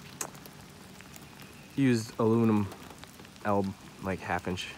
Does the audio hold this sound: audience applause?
no